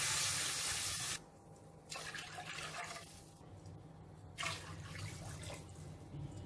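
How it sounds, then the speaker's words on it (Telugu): Water is poured from glasses into a pot holding rice and moong dal for pulagam: three separate splashing pours, the first longest, close by and fairly quiet, with no talk. "నీళ్లు 3 గ్లాసులు వేసుకోవాలి."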